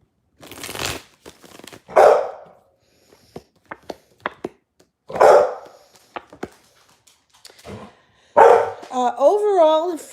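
A pet dog barks several times in separate sharp bursts indoors, with a person talking between and around the barks.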